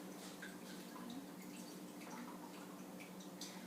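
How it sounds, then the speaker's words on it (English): Drained canned corn pours through a colander, with water trickling and dripping steadily at close range in a kitchen, a soft continuous splashing with small irregular drips. "Again, we'll just pour it down through the colander."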